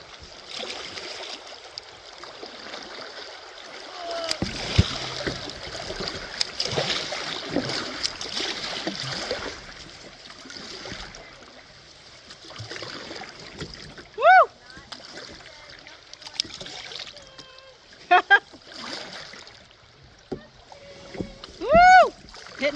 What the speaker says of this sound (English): It's very shallow. Hitting all kinds of stuff, hence the rapids.